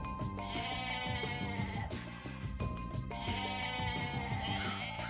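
Goats in Age of Mythology bleat in repeated wavering cries, loud and close, several calls overlapping in a busy, almost musical chorus.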